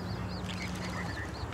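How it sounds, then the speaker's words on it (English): Ducks flying over a golf course quack several times in short, repeated calls, faint and distant against steady outdoor background noise. "Ducks are flying."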